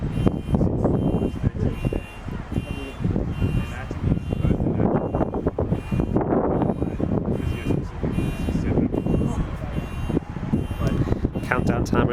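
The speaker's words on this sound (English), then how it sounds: "By countdown timer, I mean annoying car alarm, which is just finished" Car alarm at an ultimate frisbee Opens division pool match, a steady repeating electronic tone running beneath loud, continuous commentary and crowd noise throughout.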